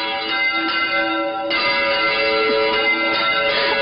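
Church bells ring continuously for a wedding, a dense resonant peal with overlapping strikes and a steady sustained hum, fairly loud and without talk.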